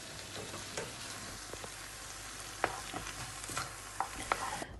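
Mushrooms, butter, spices and drained olives cooking gently on low heat in a pan, a soft steady sizzle broken by occasional stirring scrapes and light clicks.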